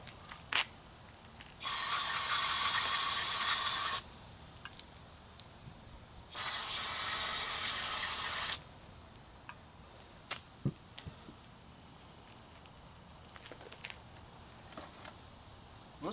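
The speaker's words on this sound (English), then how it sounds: "I'm going to spray clean that out" Carburetor cleaner sprayed into the junk-filled float bowl of a small engine carburetor, two loud steady hisses of about two and three seconds separated by a pause, followed by quiet scattered ticks and clicks.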